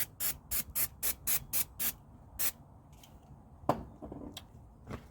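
Quick hissing bursts of aerosol spray on rear brake parts of a Chrysler 300C come in a rapid series of about eight, then a few more spaced sprays with faint clanks between them.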